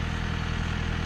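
A John Deere 6110M tractor with around 100 hours on it runs steadily in a field, its engine a continuous close mid-pitched drone with a low rhythmic pulse and no change in pace.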